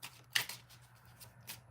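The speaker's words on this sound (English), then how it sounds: "Let me shuffle this a few times first." A deck of tarot or oracle cards being shuffled during a live reading, a few riffling bursts with one sharp louder flutter near the start, then softer shuffles alone over a faint steady hum.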